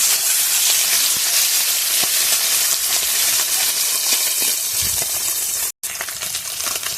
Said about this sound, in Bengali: এদিকে মাছ ভাজা হবে